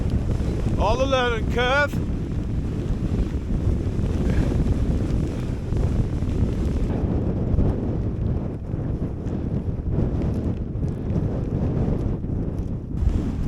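Strong wind roars continuously across a microphone while camping on High Snockrigg, a loud, buffeting rumble throughout, with someone speaking briefly under it early on.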